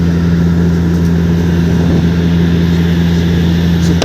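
An airplane cabin hums before takeoff with a loud, steady engine drone and a strong low tone, continuous and unchanging with no voices.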